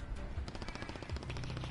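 Rapid bursts of automatic gunfire from a Call of Duty match, loud and continuous, with dense repeated shots through the whole stretch.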